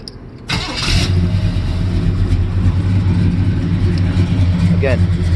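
A 1967 Chevrolet El Camino engine with stock exhaust manifolds and Flowmaster exhaust cranks and fires up, then settles into a loud, steady, rumbling idle close by.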